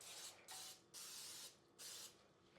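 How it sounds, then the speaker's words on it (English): Three bursts of vegetable oil cooking spray hiss into a bundt pan, each lasting about half a second, close and steady with short pauses between them. "vegetable oil spray."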